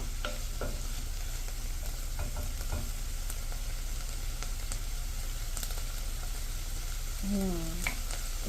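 Vegetables and garlic fry in a soup pot with a constant, close sizzle and stirring scrapes throughout, plus a short low hum near the end and no speech.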